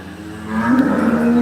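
A cow moos once on a Punjabi farm, a single drawn-out low call that rises and holds near the end, close and clear with no talk.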